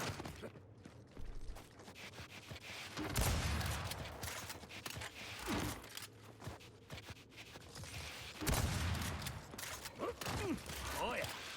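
Gunshots in the video game Gears 5, several loud close bursts spaced a few seconds apart amid clicking controller and mechanical clatter, with someone talking throughout.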